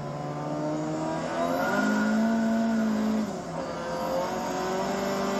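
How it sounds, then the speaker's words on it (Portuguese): A car engine revs hard nearby, its pitch climbing and holding a loud, sustained roar before dropping off and rising again, with no talking. "Vai, o bagulho é barulhento, hein? Deixa o Carlito acelerar primeiro"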